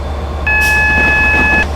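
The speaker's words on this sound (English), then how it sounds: "Auto signal, it's a warning because of the speed limit change as well" A steady two-tone electronic warning beep from a train cab's auto signal system in Train Simulator Classic, sounding continuously for just over a second over the low, constant rumble of the moving locomotive.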